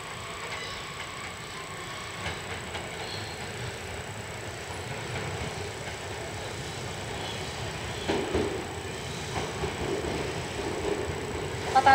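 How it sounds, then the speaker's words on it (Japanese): A 12-car E259 series Narita Express train rumbles steadily into platform 1 at Narita Station, a continuous mechanical roar with rattling and a few louder clanks toward the end. "1番線には9時5分発成田エクスプレス6号横浜池袋行き12両編成で到着です"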